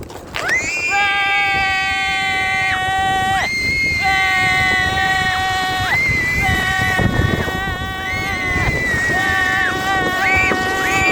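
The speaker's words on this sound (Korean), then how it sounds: "끝에 내려갈 때까지 소리 지르는 거예요" Several people riding a snow sled scream together in long, sustained, high-pitched cries that break off and restart, loud and close, with wind rushing past the microphone.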